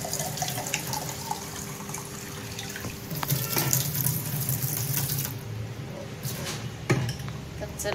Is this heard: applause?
no